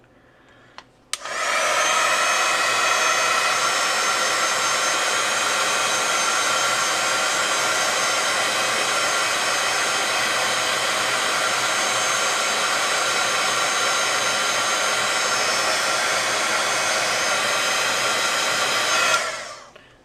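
A heat tool blows steadily for about eighteen seconds to dry watercolor paint, a loud, close, continuous whooshing hum that switches on abruptly and winds down at the end, with no talking.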